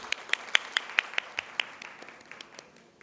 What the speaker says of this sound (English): Please give a big round of applause for our fourth panelist.